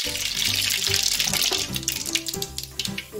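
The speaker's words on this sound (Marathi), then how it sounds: "तेल तापलेलं आहे, त्यामध्ये आपण मोहरी टाकून घेऊया" Mustard seeds spluttering in hot oil in a saucepan for khichdi tempering: a dense, continuous crackle with sharp pops throughout, close and fairly loud, with no talk.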